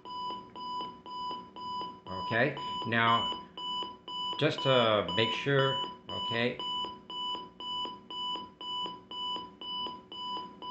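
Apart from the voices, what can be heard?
Capello CR-2 alarm clock radio alarm beeping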